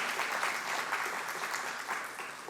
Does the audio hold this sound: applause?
yes